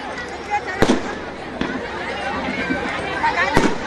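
Fireworks set off from a rooftop during a public ceremony in Bhopal, several sharp cracking bangs at irregular intervals, some distance away, under someone speaking over a loudspeaker.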